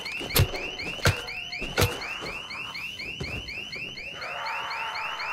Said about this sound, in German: Alarmbox.